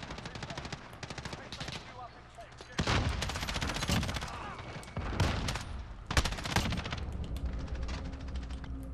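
Gunfire in the Modern Warfare shooter game on the Crash map, quick bursts of rapid automatic shots that grow louder and denser after a few seconds, with a faint voice underneath.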